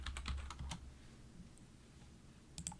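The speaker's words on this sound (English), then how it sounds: "I'm just going to type in Infusible." Quick light keystrokes on a computer keyboard, a short burst of clicks at the start and a few more at the end, faint and close in a quiet room.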